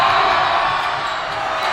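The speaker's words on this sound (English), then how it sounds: "Lots of noise from the crowd." Loud, steady crowd roar fills a high school varsity boys basketball gym during free throws, a dense continuous wash of voices and cheering with no clear breaks.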